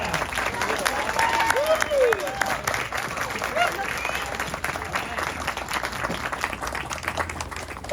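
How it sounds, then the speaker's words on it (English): Steady crowd applause for Maureen at a legislative award event, sustained and moderately loud, with some cheering and scattered voices mixed into the clapping. "I want to ask you to join me in giving a big round of applause to Maureen"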